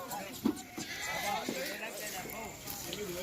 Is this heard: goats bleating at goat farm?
yes